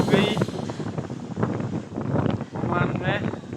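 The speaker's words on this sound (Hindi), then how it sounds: "बहुत तेज़ हवा चल रही है" Strong wind blowing outdoors during rain in Oman, a steady rushing buffet across the microphone with someone talking over it.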